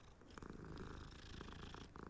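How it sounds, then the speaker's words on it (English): A cat in the Hogwarts Legacy video game purrs softly while being petted, a faint, steady rumbling purr with a few light clicks, heard alone without talk. "Oh, you get to pet the cats."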